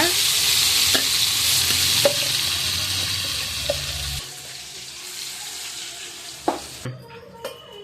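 Steady sizzling of ginger paste frying in oil over low heat with occasional stirring scrapes, then a splash of water into the pan and quieter bubbling toward the end.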